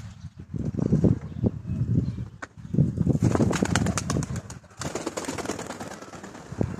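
Pigeons coo in soft repeated bursts alongside fluttering, flapping wing noise close by, in a busy, uneven stretch with a brief sharp click partway through.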